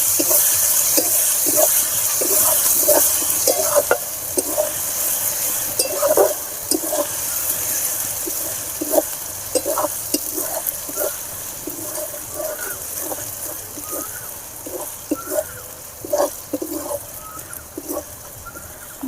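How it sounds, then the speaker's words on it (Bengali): Garlic frying on its own in a pan for a chicken curry, a constant bright sizzle broken by frequent clinks and scrapes of a spoon stirring against the pan. "রসুনটা আলাদা ভেজে নিলে কি হয়, রসুনের গন্ধটা থাকে না, সেই জন্য আমি রসুনটা আলাদা করে ভেজে নিচ্ছি।"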